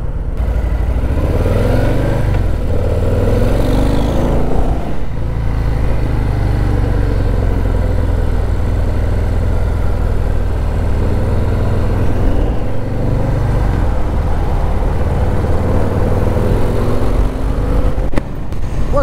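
Harley-Davidson Low Rider S motorcycle riding toward Pacific Beach, California, its engine a loud continuous rumble with wind roar throughout, rising and settling slightly with throttle changes.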